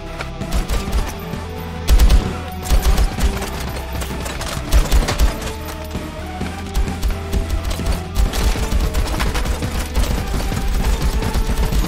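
Rapid gunfire from the VR shooter game Hard Bullet: loud, dense bursts of machine-gun and pistol shots with occasional heavier impacts, continuing throughout with no speech.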